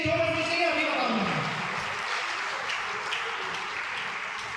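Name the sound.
audience applause for Pawanesh ji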